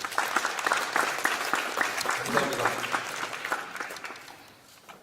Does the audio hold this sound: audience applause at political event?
yes